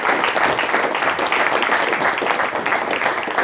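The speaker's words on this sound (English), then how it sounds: "have a round of applause" Audience at a Vancouver producers' forum applauding the end of a talk: loud, dense clapping from a room of people, steady and close throughout.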